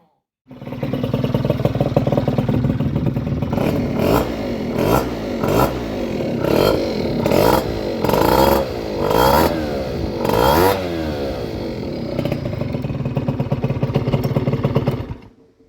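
A Bosozoku-style scooter engine runs steadily after a barrel and piston replacement, idling with a busy clattering tone and repeated short throttle blips rising and falling through the middle of the run, loud and close with no talking.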